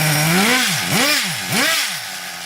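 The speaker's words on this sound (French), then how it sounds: "Vous voyez, à chaud, il faut mettre un petit coup de gaz pour qu'elle repart." Warm Renault Clio engine restarting with a light blip of throttle, revving up and dropping back in three rising and falling surges before settling, close and loud with no voices.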